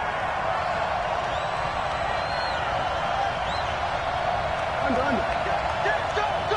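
In a Madden football video game, a stadium crowd keeps up a dense, steady roar of cheering, swelling slightly as a big third down approaches, with faint whoops rising above it.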